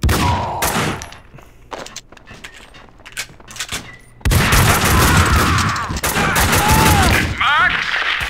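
Max Payne 2 video game gunfire: scattered sharp shots and bangs open the scene, then the volume jumps into a loud, sustained barrage of rapid fire with whooshing and ricochet-like whines.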